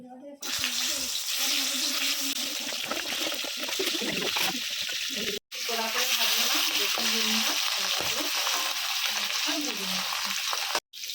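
Hilsa fish frying in hot mustard oil in a kadai, a loud continuous crackling sizzle with stirring that cuts off briefly twice.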